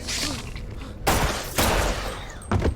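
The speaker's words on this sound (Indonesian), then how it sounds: "Untung saja Ben segera datang langsung menembak Sarah." Gunfire rings out in a scene from the horror film The Wretched (2019), with loud, close blasts in separate bursts that echo over a tense background.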